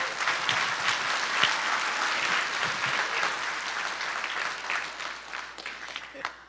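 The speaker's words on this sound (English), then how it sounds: "Let's give her a round of applause." Audience members at a middle school chorus Christmas concert give the accompanist a warm round of applause, steady clapping with scattered voices that slowly tapers off near the end.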